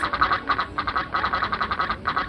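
Ducks quacking at Busch Gardens Williamsburg, a steady run of repeated nasal quacks in quick rhythmic bursts, fairly close, with no talk.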